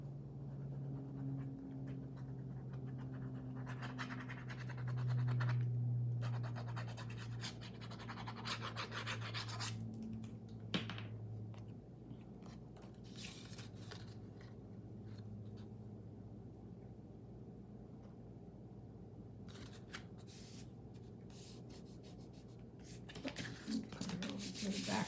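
Paper rubbed by hand over a real leaf to make a botanical print card, a steady soft scraping and rubbing that runs on and off close by, with a low background hum throughout.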